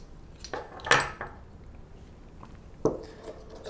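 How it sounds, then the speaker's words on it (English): A spoon clinking and scraping against a bowl while a maple syrup mixture is stirred, a few sharp knocks spaced apart over soft background noise. "Now you just want to mix that up."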